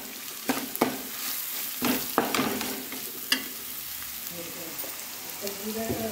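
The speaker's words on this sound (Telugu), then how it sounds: "కారం, ఉప్పు వేసి వేయించుకోవాలి." Stirring and frying chili powder and salt in a pan, with sharp scraping strokes of a spoon over a steady sizzle, the stirs irregular and close.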